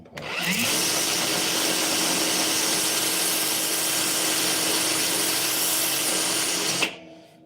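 A knife blade is sanded on a powered sander, giving a loud, continuous abrasive whir that starts abruptly, holds steady for about six seconds and then stops.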